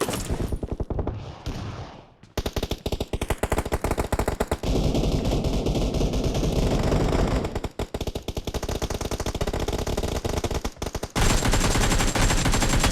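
Video game gunfire in BGMI: nearly continuous dense automatic bursts, loud and close, with brief gaps between volleys. No voices are heard.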